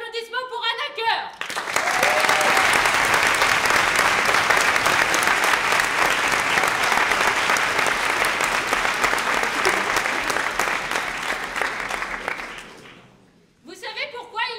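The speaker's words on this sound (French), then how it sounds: "un tonnerre d'applaudissements pour Anna Cœur." Loud, sustained applause from a large audience at a French comedy show fills the space for about eleven seconds, then fades out, with brief talking in French before and after.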